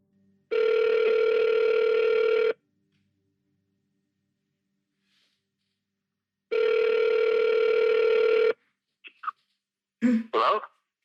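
A telephone rings down the line in two long, steady tones separated by a few seconds of silence. A short throat clearing and a cough follow.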